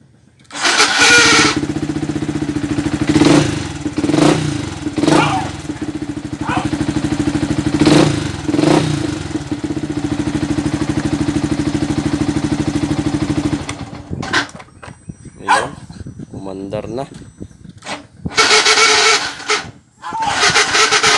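A Yamaha TFX 150 motorcycle that had refused to start, now fitted with a new bendix, cranks and catches, then runs with a loud, steady mid-pitched idle. The engine cuts off partway through, followed by nearby talking and a brief return of engine noise.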